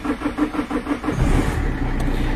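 A Renault Clio 2 with a 1.5 dCi diesel turns over in cold weather at about minus eight degrees: a rhythmic cranking pulse, then the engine catches and settles into a steady, close, loud diesel idle.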